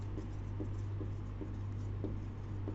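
Handwriting on a board, heard as a steady run of soft scratchy strokes with short pauses between words over a constant low electrical hum.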